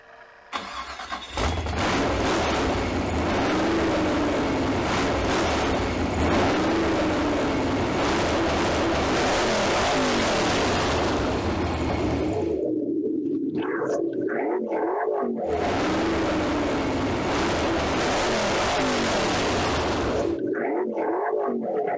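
A car engine cranks and catches after gas is squirted into it, then roars loudly as it revs hard for several seconds, cuts out briefly, and revs again in bursts.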